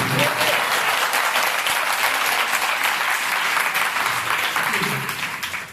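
Loud, dense applause from a church congregation at a Sunday morning service fills the space evenly and begins to fade toward the end.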